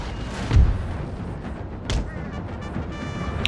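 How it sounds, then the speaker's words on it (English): Artillery fires in a Napoleon: Total War battle with Darthmod: two heavy booming thuds about a second and a half apart, each followed by a rumbling tail over constant battlefield noise. "it's just turning into an artillery duel"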